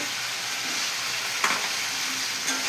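Paneer and fried potatoes go into sizzling spiced oil, giving a dense, steady hiss of frying with a couple of brief stirring clatters, close and uninterrupted by speech.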